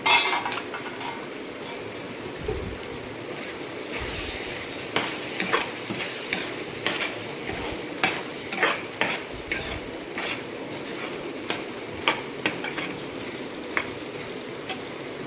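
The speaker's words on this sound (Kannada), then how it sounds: "ನೋಡಿದ್ವಿ ಚೆನ್ನಾಗಿ ಹೀರೆಕಾಯಿ ಬೇಯ್ತಾ ಇದೆ" Ridge gourd cooks in oil in a pan over low heat as a spoon stirs it, tapping and scraping the metal in an irregular series of clinks over a steady low sizzle.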